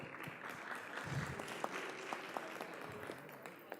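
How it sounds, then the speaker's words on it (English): A round of applause at a school board of education meeting, a moderate crowd clapping steadily in a room, with a few sharper claps and faint voices mixed in. "So let's give the New Jersey Devils a round of applause."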